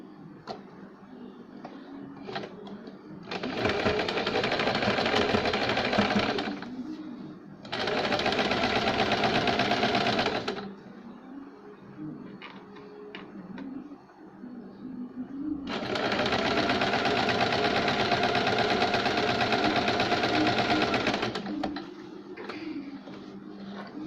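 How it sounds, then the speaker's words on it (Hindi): A sewing machine stitches a cold-shoulder sleeve in three steady bursts of rapid whirring, with quiet pauses between and light handling clicks, close and clear. "पहले हम एक साइड से सिलाई करेंगे इसकी, जहाँ पे निशान लगा वहाँ से हम इसको सिलाई करेंगे।"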